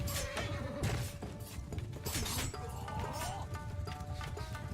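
A battle in Mount and Blade II: Bannerlord with the Shokuho Japanese Shogun mod, where many horses gallop in a dense, loud drumming of hooves mixed with clashes and a whinny.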